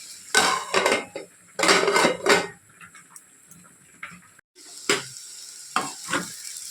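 Cluster beans and green chillies are fried in a pan, with a soft sizzle under loud bursts of a metal spoon scraping and clanking against the pan in uneven groups, close by and with no talk.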